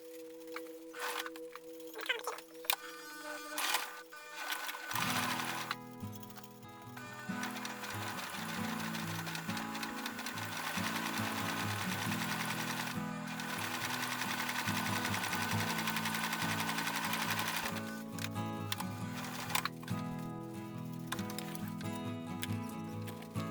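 A pedal-operated sewing machine stitches gnome jeans with gold thread, running in a fast continuous whirring rattle after a few seconds of quiet handling, loud and close, with brief speed changes and pauses near the end.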